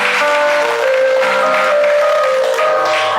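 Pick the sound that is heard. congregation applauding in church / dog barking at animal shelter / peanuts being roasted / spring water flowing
congregation applauding in church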